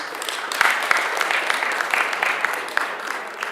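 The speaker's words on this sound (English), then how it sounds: "really a big applause for Merck" Audience at a Pan-African launch event applauding Merck: brisk, fairly loud clapping from a crowd, sustained and even, with a couple of heavier thumps early on.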